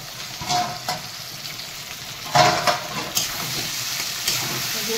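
Spice paste fries in a pan while fish curry with cauliflower is being made, a steady close sizzle broken by a few stirring scrapes and crackling bursts.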